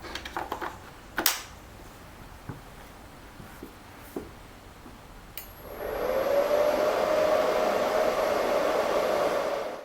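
After a few light clicks, a steady whirring hum starts up and runs evenly, like a small fan or motor close by: a Sunra Miku Super electric motorcycle charger.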